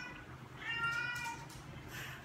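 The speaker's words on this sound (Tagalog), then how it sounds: "ito si Pierre Cat" A cat meows softly in a short drawn-out call over a faint background hum, fairly distant and low in level.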